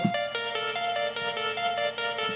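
A bright synth pattern with a fast ping-pong pan effect pulses in quick repeated notes, shimmering with reverb and bouncing rapidly, steady and fairly loud with no voices.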